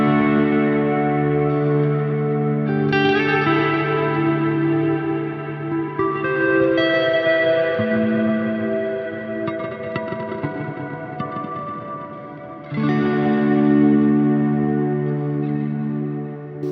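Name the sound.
guitar through reverb effects pedal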